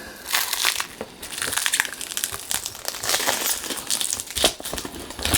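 A box knife slicing open the packaging of Presonus Eris E3.5 studio monitor speakers: close, crackly bursts of crinkling and tearing cardboard and plastic in an irregular rhythm, with no talking.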